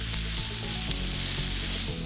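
Pork pieces sizzle and brown in a hot pan, a steady dense crackling hiss with faint stirring, close and continuous, no talking.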